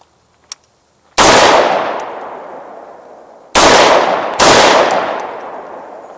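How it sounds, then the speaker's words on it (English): Three loud rifle shots fired at a range, from a rifle fitted with a Sightmark Mini M-Spec red dot sight, each a sharp crack followed by a long decaying echo, with a faint click before the first. "Let's fire off a couple more rounds."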